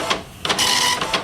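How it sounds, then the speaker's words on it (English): A dot matrix impact printer, its printhead striking an inked ribbon against paper, rasps out loud, close buzzing bursts in short uneven passes with a longer sustained run in the middle, no voices over it. "A type of impact printer that uses a printhead striking an ink-soaked ribbon against paper."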